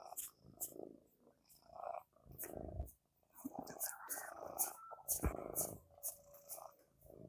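A cat purring softly and closely in a quiet room, a low rumbling purr broken by pauses, with soft whispered voices of people talking over it.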